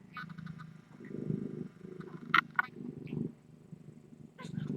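Kittens purring and making small vocal sounds at close range, a soft continuous low purr rumbling throughout with a couple of brief higher squeaks or mews.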